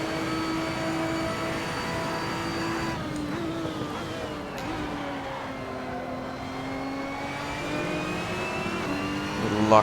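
A race car engine in a racing video game rises in pitch as it accelerates through the gears, shifts with brief drops, and keeps a smooth mechanical whine without talk.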